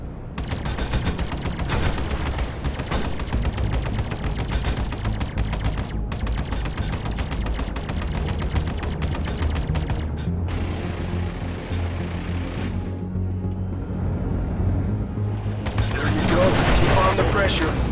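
Spaceship weapons in the Arena Commander space combat game fire in long, dense rapid bursts, a loud continuous rattle of shots with booming impacts, heaviest near the end.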